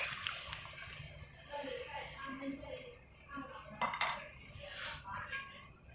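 A lid is set onto a cooking pot of Tai-style jackfruit curry with potatoes, giving a couple of soft metallic clanks near the end, faint and under steady nearby talking.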